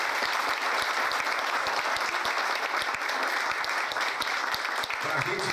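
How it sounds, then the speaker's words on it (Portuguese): A congregation at a pastor's birthday service claps warmly for the pastor in steady, continuous applause that holds at an even level, with murmurs of voices underneath. "E uma forte salva de palmas para Jesus e para o pastor Narciso."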